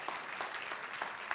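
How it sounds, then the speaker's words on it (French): Brief applause from an audience at a talk, a short patter of clapping with no voices over it. "Vous pouvez l'applaudir"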